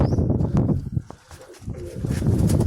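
Newly released pigeons in a village coo in low, muffled bursts over a dense, rumbling background, with a short quieter gap midway.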